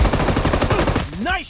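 Rapid automatic gunfire from the mobile game PUBG Mobile rattles loud and close in a dense burst, ending with a voice speaking over it.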